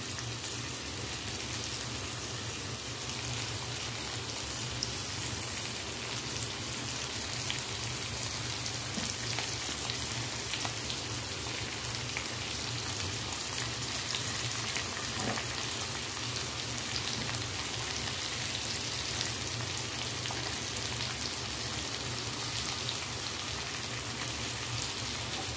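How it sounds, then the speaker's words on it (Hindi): Onions frying in a pan for Punjabi-style soya badi pulao, a steady, even sizzle like light rain running continuously at moderate distance with no talking. "लाल करना है प्याज को, तभी लौ का टेस्ट आएगा। तो इसको हम जब तक ये लाल होता है तब तक हम इसको भून लेते हैं।"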